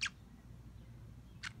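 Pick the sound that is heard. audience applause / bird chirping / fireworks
bird chirping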